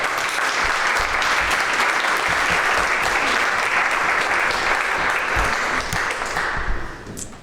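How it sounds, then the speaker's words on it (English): An audience at a sustainable fashion conference applauds speakers walking onto the stage, a loud, full, continuous clapping that holds steady before tapering off abruptly at the end. "Please give them a big round of applause."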